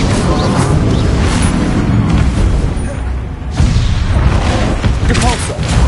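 Loud, booming Bombarda spell blasts from Hogwarts Legacy burst in quick succession, with heavy rumbling impacts, a brief lull in the middle and crashing debris.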